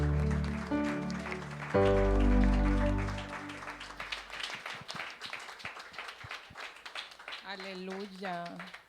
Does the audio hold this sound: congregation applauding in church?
yes